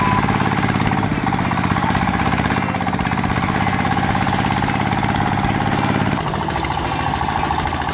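Compact rice and wheat harvester engine running with a continuous loud, pulsing mechanical drone and rattle, easing slightly in tone near the end.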